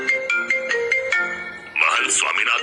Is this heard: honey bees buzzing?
no